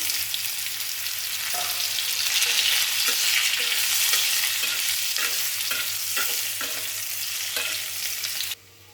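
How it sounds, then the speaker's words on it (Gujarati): Potatoes frying in a pan with cumin for a bread pakoda filling, a strong continuous sizzle with rhythmic spatula scrapes and taps, cutting off abruptly at the end. "હવે તેમાં બટાકા નાખી દઈશું।"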